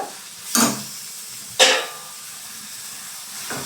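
Chopped tomatoes sautéing in a pan for a homestyle chicken curry give a low, steady sizzle, broken by two sharp, loud stirring scrapes close by and a fainter one near the end, with no talking.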